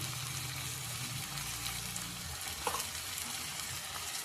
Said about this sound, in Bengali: আর পরিমাণ মতন নুন দিয়ে ভালো করে কষিয়ে নেব।